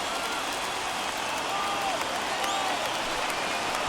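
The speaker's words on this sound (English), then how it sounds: "I can hear the crowd murmuring now" Steady crowd murmur fills a baseball stadium during a Braves–Padres NLCS playoff game, a continuous broad wash of many distant voices with a few faint whistles rising above it, and no clear speech on top.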